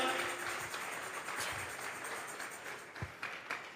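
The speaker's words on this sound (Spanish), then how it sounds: "Vamos a regalarle ofrenda de palmas al Dios de la gloria" A Sunday church congregation clapping in praise, moderately faint and uneven, with scattered individual claps and light taps standing out near the end over a soft background wash.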